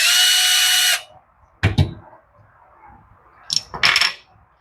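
On the bench, the base comes off the carburetor of a Poulan 3314 chainsaw. A loud whirring power-tool burst opens, then sharp metallic clicks and small clattering taps follow in a quiet room.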